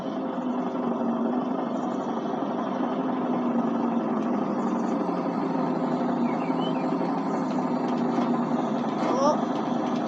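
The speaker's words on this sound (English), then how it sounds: "I should probably start the engine first" A brand-new 10-ton truck engine idles in Farming Simulator 19, a steady mid-pitched rumble that holds constant throughout with faint clicks and small game sounds layered on top.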